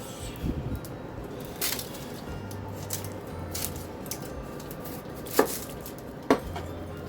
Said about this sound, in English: And just chopping up a baby onion.